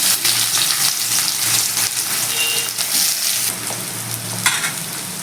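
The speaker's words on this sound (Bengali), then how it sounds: "এবার আমি ওই তেলের মধ্যে পেঁয়াজ কুচিটা ছেড়ে নিই" Sliced onions hitting hot oil in a pan give a loud, dense, steady sizzle and hiss that runs unbroken throughout, with occasional stirring knocks.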